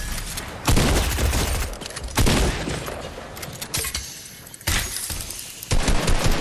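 Gunfire from the Fortnite video game comes in repeated heavy bursts of rapid shots, loud and close, separated by brief gaps across several seconds.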